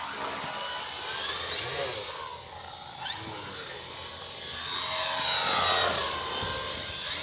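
E-flite Turbo Timber Evo 1.5m RC plane flying at about quarter throttle in light wind, a whining electric motor and propeller drone that rises and fades as the aircraft passes at moderate distance, alone without talk.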